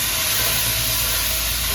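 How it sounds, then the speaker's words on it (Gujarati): Spices temper in hot oil for a vaghar in a busy eatery kitchen, a steady loud sizzling hiss that holds without a break. "વઘાર મારી રહ્યા છે."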